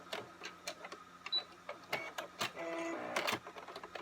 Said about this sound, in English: And back stitch so you can lock it in.